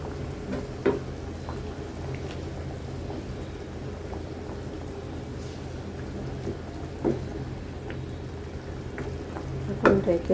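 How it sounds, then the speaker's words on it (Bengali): Fish pieces dropped into a simmering spiced curry and stirred, a low bubbling sizzle with occasional spoon knocks and scrapes against the pot, fairly faint and steady. "এখন হচ্ছে মাছগুলি দিয়ে দিই"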